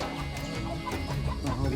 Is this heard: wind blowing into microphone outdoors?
no